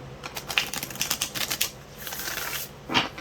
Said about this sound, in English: I'll go ahead and shuffle a few more times